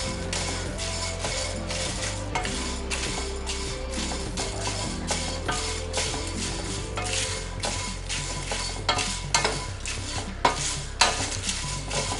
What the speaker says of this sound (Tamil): இப்போ இது எல்லாத்தையும் நான் ஒரு 5 நிமிஷம் மிதமான தீயில வச்சு வறுத்து எடுத்துக்கிறேன்.